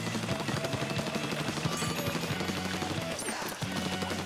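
Rapid weapon fire from Splatoon online gameplay, bursts of quick repeated shots layered over steady game music.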